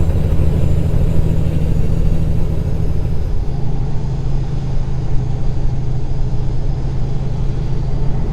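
A steady low truck engine rumble drones continuously inside the cab in American Truck Simulator, with no voices over it.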